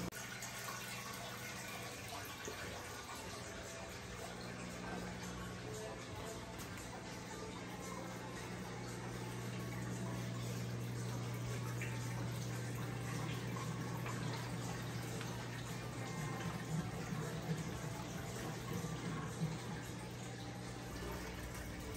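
Saltwater aquarium water draining through a hose with a pump, a steady close rushing flow with a low hum that swells slightly midway and continues throughout.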